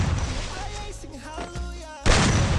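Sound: gunfire in the video game Free Fire

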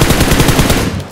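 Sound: AWM sniper rifle firing in a battle royale video game

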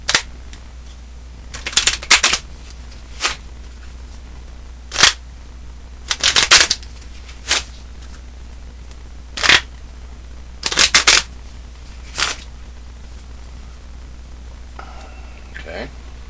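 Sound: shuffling a standard poker deck of cards

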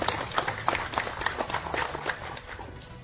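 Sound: audience applause

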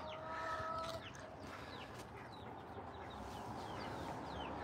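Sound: chickens clucking in a chicken coop

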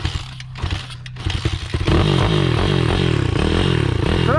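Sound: quad bike or pit bike engine revving in second gear

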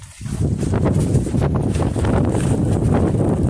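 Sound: wind

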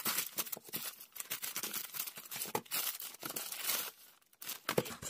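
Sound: tearing open parcel packaging

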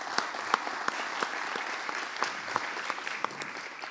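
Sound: audience applause

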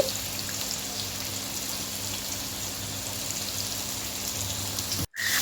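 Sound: potatoes frying in oil

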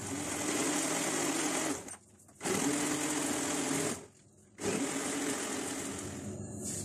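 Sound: blender blending crushed ice into a mocha chocolate ice cream drink

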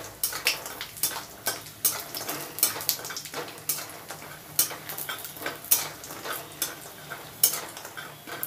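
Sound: lentil dumplings (bori) frying in mustard oil

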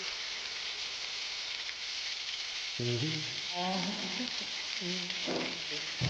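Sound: deep frying lentil fritters

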